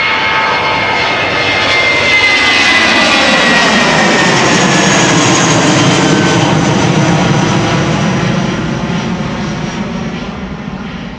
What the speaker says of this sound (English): Airbus A320 200, 12 years old, first flight July 2011.